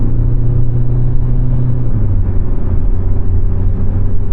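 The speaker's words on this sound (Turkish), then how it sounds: "Şimdi aldım bir daha deniyorum dip gaz yaptım" A 2024 Ford Focus 1.5 EcoBlue Titanium sedan in sport mode holds a loud, steady engine drone at full throttle, its low tone dipping slightly partway through as revs hold high, with no voices over it.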